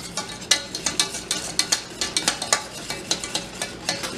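A spoon stirs sugar and milk in a pot on the stove, scraping the bottom in quick, regular strokes, about three or four sharp scrapes per second, close and clear over a faint bubbling hiss.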